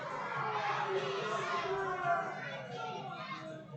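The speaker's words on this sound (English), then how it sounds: "Home crowd giving it to the home plate umpire, Brandon Snyder, tonight." Home crowd at a minor-league baseball game between the Evansville Otters and Schaumburg Boomers shouting and jeering at the home plate umpire, a loud mix of yells and chatter heard fairly distantly.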